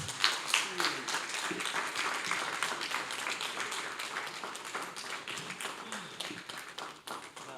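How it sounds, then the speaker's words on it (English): A seminar audience at the Oando Legal Seminar 2025 gives a legal-practice talk a sustained round of applause, dense and steady for several seconds, with some voices heard beneath the clapping. "In fact, another round of applause"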